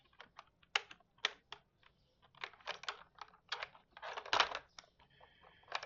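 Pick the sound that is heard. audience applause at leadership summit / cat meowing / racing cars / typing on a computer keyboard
typing on a computer keyboard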